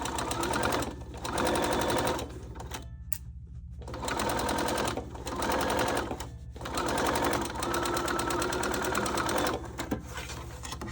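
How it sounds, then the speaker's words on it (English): A sewing machine runs in several steady bursts of stitching while sewing a poolside tote bag, its rapid mechanical whir close and loud, pausing briefly between runs. "For ease of sewing, I'm also going to do a line of stitching here at the bottom."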